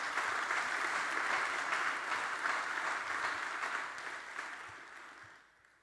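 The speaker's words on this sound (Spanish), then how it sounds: "Dale un fuerte aplauso al Señor por ese poder." A church congregation applauds together in a sustained, full round of clapping that holds steady, then tapers off and fades near the end.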